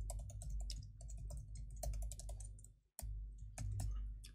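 Computer keyboard typed in steady bursts of close, crisp key clicks while JavaScript is written in a text document, with one brief pause near the end before the typing resumes.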